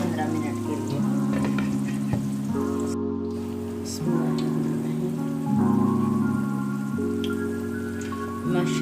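Gram flour kadhi curry simmers in a pot on low heat, giving a steady soft sizzling and bubbling hiss throughout, with background music playing over it.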